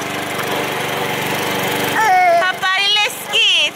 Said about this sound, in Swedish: Pappa klipper bara gräset.